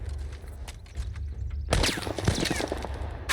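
Rapid bursts of gunfire in The Last of Us Part I crackle, quieter at first, then a loud volley of closely spaced shots with clattering, mechanical game-style effects.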